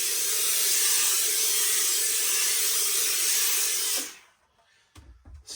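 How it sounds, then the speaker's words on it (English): Handheld steamer hissing steadily into the inside of a black felt Lock & Co fedora for about four seconds, loud and continuous, then cutting off, leaving a few faint handling knocks. "steaming it inside will get rid of some of the I guess usage marks"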